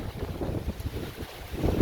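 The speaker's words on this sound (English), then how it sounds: "here comes the wind." Wind gusts from an approaching severe thunderstorm on Dauphin Island, Alabama buffet the microphone in low, uneven rumbles, swelling stronger toward the end, with a faint watery wash underneath.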